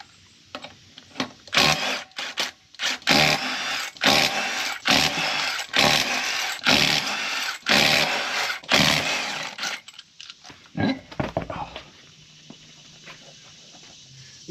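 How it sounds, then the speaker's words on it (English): Power tool removing lug nuts from a Ford Super Duty truck wheel, a series of loud, close bursts of whirring and rattling in quick succession that thin out to a few shorter bursts near the end. "First step, take your wheels off with whatever flavor lug nuts you have."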